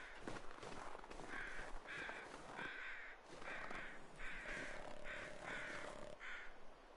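Crows cawing in the survival game The Long Dark, a series of harsh, repeated caws in quick bursts over a steady wind-like background, fairly close and prominent.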